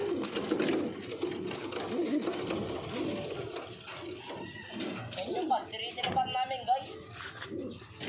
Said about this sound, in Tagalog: kunin lang natin, mga kalapatids, yung bago nating kalapate